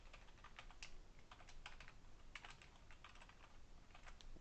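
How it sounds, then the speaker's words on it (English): Typing on a computer keyboard, with quick irregular key clicks close to the microphone over a steady background hiss, no talk. "So let me type this out."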